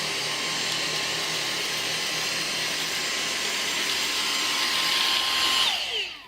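A Dyson V6 motor head cordless vacuum runs steadily with a loud, high whine while sucking up oatmeal, then its motor winds down and stops at the end.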